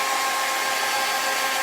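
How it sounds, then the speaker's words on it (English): A blow dryer runs steadily on a pillow transfer to heat it, a continuous loud whooshing hum close by with no break and no voices. "I'm gonna hit this with the blow dryer here really quick first"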